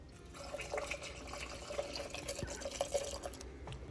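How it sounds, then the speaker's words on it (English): Pour-over coffee draining through a paper filter, a quiet steady trickle of liquid with scattered small drips, faint and close with no talking. "We'll just let that finish filtering and we're ready to pour."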